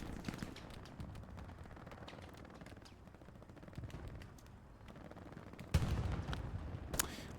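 Machine gun fire in the WWII shooter Hell Let Loose on the Stalingrad map, a steady crackle of distant shots running throughout, with a louder nearby burst near the end.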